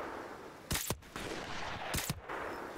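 Gunfire in Call of Duty: Modern Warfare Remastered, two sharp loud bursts of shots about a second apart against a steady game background.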